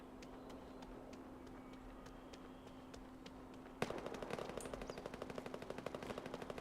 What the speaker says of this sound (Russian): эта стрельба, скорее всего, в складе происходит